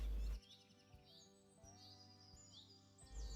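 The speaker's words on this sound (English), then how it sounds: "All around us, birdsong fills the air, a constant reminder that the land is waking again." Eastern rosellas singing in spring woodland, a quiet scatter of clear, whistled chirps and rising-falling notes from birds at a moderate distance over a soft background, with no talking.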